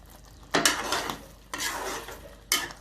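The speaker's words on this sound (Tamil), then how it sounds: "நடுவில் இன்னொரு வாட்டி கிளறி விடுங்க." Three distinct scraping strokes of a spoon stirring a thickening chicken coconut curry in a pan, each a sharp rasping sweep separated by short pauses, with a low simmer underneath.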